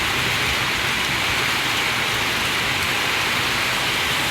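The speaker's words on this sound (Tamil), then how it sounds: "கோவை தொண்டாமுத்தூர் சுற்றுவட்டார பகுதிகளிலும் சுமார் 1 மணி நேரத்திற்கு மேலாக மழை" Heavy rain pours steadily over the Thondamuthur area near Coimbatore, a dense, continuous hiss of downpour with no pauses and no voices.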